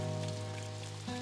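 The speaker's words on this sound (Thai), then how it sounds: "ฝนกำลังตกครับ" Rain falling in the farming game Doraemon Story of Seasons, a steady soft hiss of drops running under looping background music for the whole short stretch.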